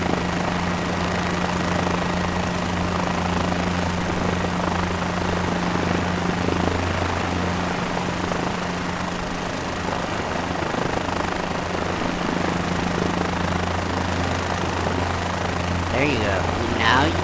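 Steady drone of an aircraft engine in Microsoft Flight Simulator 2024, a continuous loud hum with tonal rotor-like pitch, unbroken throughout.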